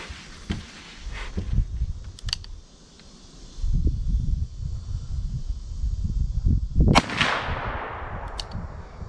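A single loud, sharp blast from a Taurus Raging Hunter .44 Magnum revolver with an 8.37-inch barrel, fired outdoors, rings out and decays, with a few faint clicks and handling noises around it.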